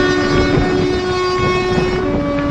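The Rupasi Bangla Express, running from Santragachi to Purulia at about 110–120 km/h, makes a loud, steady, continuous roar with a sustained tonal hum throughout, close and unbroken.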